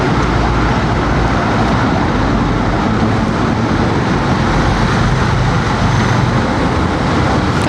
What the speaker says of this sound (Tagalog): Traffic na walang hanggan.